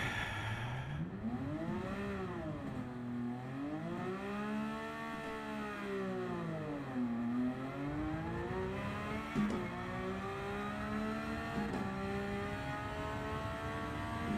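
Subaru BRZ race car engine on a track, heard from onboard as a steady droning note rising and falling with each rev and gear change, loud and continuous throughout.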